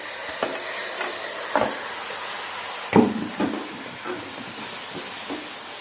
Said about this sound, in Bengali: এখানে গরম জল ফুটছে